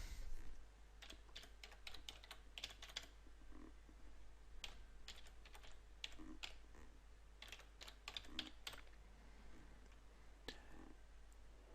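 A computer keyboard is typed on in quiet, uneven bursts of light clicking keystrokes with short pauses between runs, faint and with no voices.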